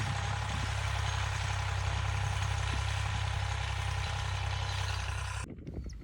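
A farm tractor idles on a plot of farmland with a steady, loud low rumble that holds unchanged for several seconds, then cuts off abruptly near the end.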